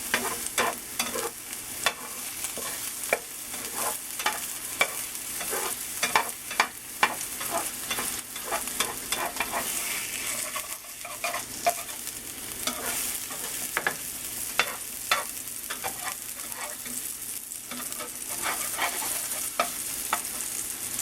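Eggs for a breakfast burrito cook in a pan with a steady soft sizzle, while a utensil repeatedly stirs and scrapes them, nearby and at moderate volume.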